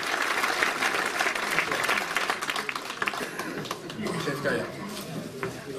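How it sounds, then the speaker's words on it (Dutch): Audience applause at a municipal award ceremony in Hardenberg, a sustained round of dense clapping that swells and then eases, with a voice speaking over its tail. "Dus groot applaus."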